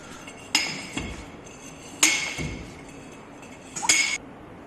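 Soil being compacted in a compaction test mold, three separate sharp metallic blows spaced about one and a half seconds apart, each ringing briefly before fading.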